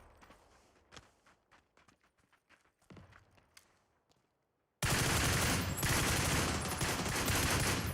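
Scattered gunshots and rapid bursts of fire in the PUBG video game crack at mid distance among footsteps, then everything cuts out to a burst of loud, dense noise.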